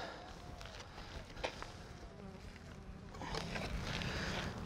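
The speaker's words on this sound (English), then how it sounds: "Got a couple guards coming out after me, but you can see the bees." Honey bees buzzing around an opened hive during the uniting of a non-viable colony with a queen-right one, with guard bees flying out; a low steady hum with darting insect passes close by, rising somewhat louder toward the end.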